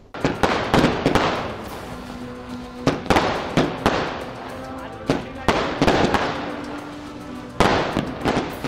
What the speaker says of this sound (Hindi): दिवाली की बात हो और आतिशबाजी का जिक्र ना आए, ऐसा कैसे हो सकता है।